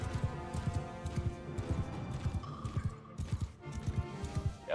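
Galloping horse hooves beat in a steady rhythm, clip-clopping as cavalry, including a cataphract rider's horse, move in a Mount and Blade Warsails battle, with a brief higher tone partway through.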